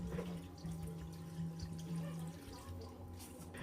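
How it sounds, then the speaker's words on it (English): Tap water poured from a plastic bottle into a tub for guppies, a soft continuous trickle and splash under a low hum. "I then fill it up manually with tap water using plastic bottle."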